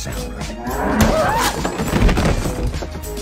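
Black cow lowing in a film scene, a single drawn-out moo rising and falling near the start, close and fairly loud, followed by impact and crash sounds.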